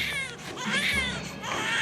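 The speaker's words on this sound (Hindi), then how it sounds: "बालक रोने की आवाज आओ है।" A baby cries in continuous wailing sobs that rise and fall over a couple of seconds, loud and close with a steady, sustained quality.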